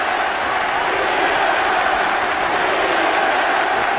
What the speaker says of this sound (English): The crowd trying to get behind and inspire the game